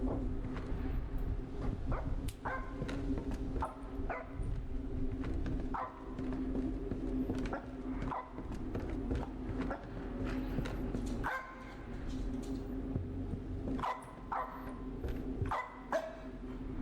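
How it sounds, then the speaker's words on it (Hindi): A dog barks repeatedly in the horror game Supernatural, sharp yips and barks at irregular intervals over a constant low droning background, with occasional whimpering tones. "फिर से भौंक रहा है।"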